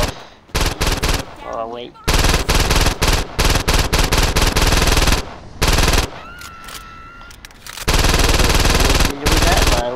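Rapid video-game gunfire from Saints Row 2 crackles in long, dense bursts with short gaps, loud and close, while someone talks briefly between volleys.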